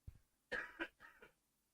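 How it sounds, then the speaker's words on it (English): A person coughs a few times in quick succession, close and fairly quiet, preceded by a small throat noise, with no speech over it. "I'm going to cough."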